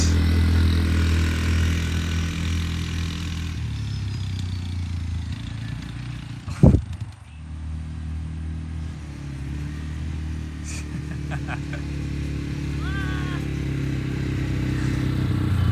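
An abandoned Kodiak 400 ATV engine running after revival, a rough steady idle with a sharp brief rev burst midway, then settling back to a chugging idle, close and fairly loud.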